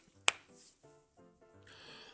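A single sharp crack of finger joints, a brief close pop, followed by quiet room tone with faint low hum and soft background noise.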